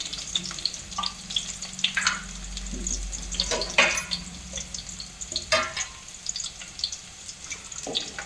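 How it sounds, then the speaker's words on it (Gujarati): Garlic fries in oil in a pan for a Gujarati radish leaf bhaji, a soft continuous sizzle with occasional stirring scrapes and clinks close by, fairly quiet, with no talking. "લસણ થોડુંક સતળાવા દઈશું આપણે બ્રાઉન કલરનું થઈ જાય ત્યાં સુધી એને તળી લેશું"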